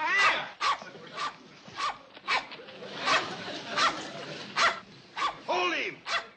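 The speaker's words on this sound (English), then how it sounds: "Get that buffalo dog away from him." A dog barks in sharp, repeated bursts, close and loud, with a short gap between each bark and people talking in between.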